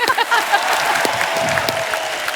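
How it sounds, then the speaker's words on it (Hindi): Studio audience applause on a Hindi comedy show, a moderate, steady wash of clapping with a few sharper individual claps near the start. "जोरदार तालियां।"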